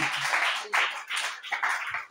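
A church congregation claps together in a steady, rhythmic pattern, dense and fairly close, with a few louder bursts.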